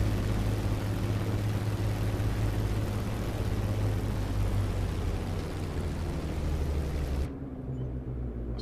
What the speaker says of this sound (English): let's go ahead and turn off the aircraft here